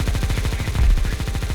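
The Negev machine gun in Counter-Strike fires a rapid, steady burst of evenly spaced shots. It is loud and close and runs without a break for the whole short stretch.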